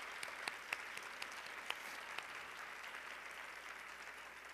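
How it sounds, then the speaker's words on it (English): Association meeting crowd giving a round of applause, steady massed clapping at moderate distance with a few sharper individual claps standing out early on. "Round of applause for all the state recognition people."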